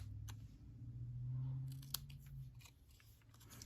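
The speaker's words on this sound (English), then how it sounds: "I'm even going to trim this banner end with my scissors" Quiet, close snips of scissors trimming the end of a cardstock banner, a few short crisp cuts over a low background hum.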